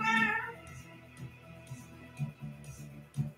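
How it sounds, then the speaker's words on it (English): A cat gives a clear, fairly close meow at the start, followed by quiet, faint shuffling sounds. "I said the cat comes running and he comes running."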